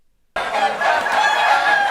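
Fighting roosters at a Balinese cockfight let out loud, close clucking and crowing calls that begin abruptly after a brief silence and carry on without any talking.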